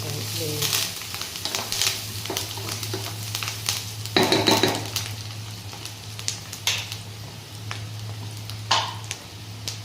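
Aloo paneer curry with curry leaves sizzles in a pan while a spoon scrapes and clinks against the metal in irregular strokes, a steady low hum beneath and a voice speaking briefly.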